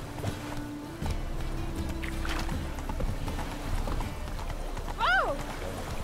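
A horse gallops in the Witcher 3 game on the Skellige isles, with steady hoofbeats running under game ambience and a brief rising tonal effect.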